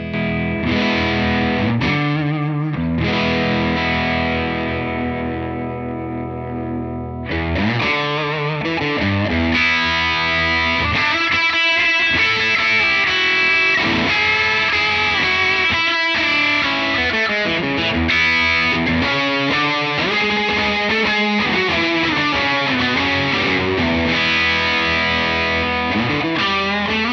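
Electric guitar played through a Protein overdrive pedal on its green side into a UA Ruby amp, sustained distorted chords and melodic lines ringing out loudly and alone, with brief pauses between phrases.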